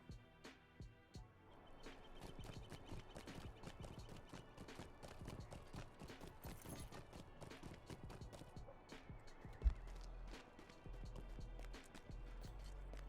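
Horse hooves clip-clop steadily in the video game Lord of the Rings Online, a quick continuous rhythm of sharp close hoof strikes that runs from start to finish, with no talk over it.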